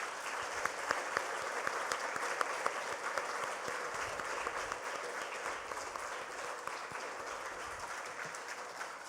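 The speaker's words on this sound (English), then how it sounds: "So give them a big round of applause to your darling parents." A college awards day audience applauding the parents, with a steady, even roar of many hands clapping at moderate distance that holds at a constant level throughout, with no speech over it.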